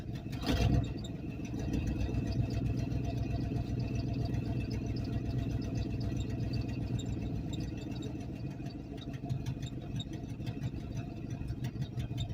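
A vehicle engine idling steadily with a slightly raised idle after being turned up, a continuous close rumble with one brief louder knock near the start.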